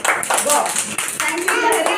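A class of lower kindergarten children claps together for a classmate named Lahari, a quick rhythmic burst of small hands close by, mixed with an adult and children speaking over it.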